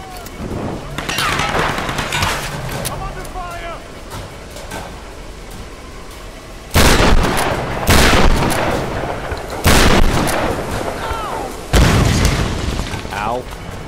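Heavy gunfire in the action game Tomb Raider: several loud booming shots land at irregular intervals over a dense bed of battle noise, with a voice talking between them.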